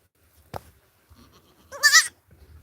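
A newborn goat kid gives one short, quavering bleat close by in a quiet space, after a single soft knock.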